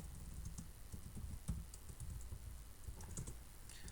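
Quiet, close keystrokes on a computer keyboard as C code is typed, irregular clicks in short bursts over faint room noise, no voices.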